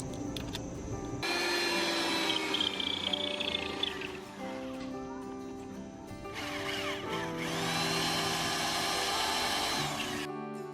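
A power drill whines and grinds close up in long, loud bursts, its pitch shifting as it bores holes into cement, with a short easing between runs.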